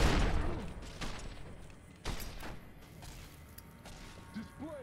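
Dynamite going off in Fallout New Vegas, a few dull, muffled blasts and thuds that rise from low background noise, the biggest at the opening and another about two seconds later, with someone talking faintly.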